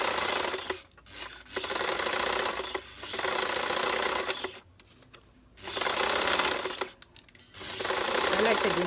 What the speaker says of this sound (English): now we're going to stitch this elastic